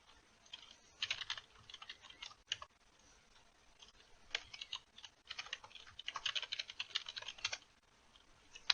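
A username and password go in on a computer keyboard in quiet, close bursts of key clicks. The rhythm is uneven, with short pauses between runs.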